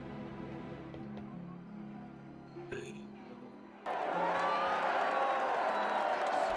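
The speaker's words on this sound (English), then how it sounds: "A mixed response can be heard coming from the crowd" A live crowd at a tabletop fantasy gladiatorial duel bursts into a sudden, sustained mixed roar of cheering and murmuring after a quieter stretch of background chatter, loud and close, with whistle-like shouts rising through it.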